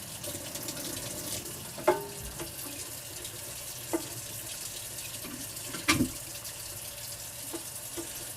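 A container rinsed under a running tap during a home brewing session, with steady water flow throughout and a few clunks and knocks of the container against the sink.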